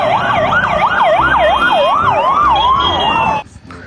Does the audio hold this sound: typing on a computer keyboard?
no